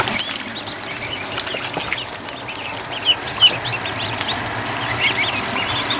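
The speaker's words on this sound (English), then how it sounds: "The ducks are just having too much fun here today," Young ducklings outside in a pen, with steady quiet clucking and peeping calls over a continuous soft outdoor background; a couple of slightly louder calls stand out near the middle.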